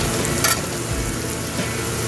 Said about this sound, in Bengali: আদা রসুন পেঁয়াজ বাটাটা দিয়ে দিচ্ছি তেলে।